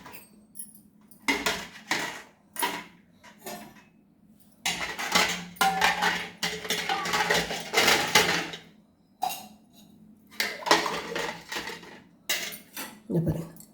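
Brass puja items clink and clatter as they are dropped one by one into a vessel of tamarind water, metallic knocks and rattles coming in irregular bursts with short pauses between, close and fairly clear.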